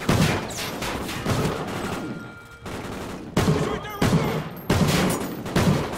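Rapid bursts of gunfire from the video game Call of Duty Ghosts, loud and close, in several clustered volleys with brief gaps between them.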